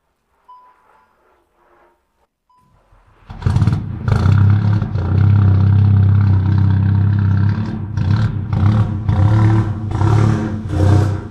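Idling engine of a customized Volkswagen Golf 7 GTI with damage, running in limited mode: after a quiet start it turns over and settles into a loud, steady close hum with a few light clatters.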